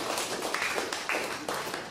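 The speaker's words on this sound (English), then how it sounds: "So she deserves a special round of applause." An audience at a piano duo concert claps for the page turner, a steady patter of applause with several louder surges, heard close with no talk.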